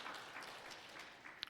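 A church congregation at a Sunday service applauds in a steady, soft wash of clapping that carries evenly through the space, faint and somewhat distant.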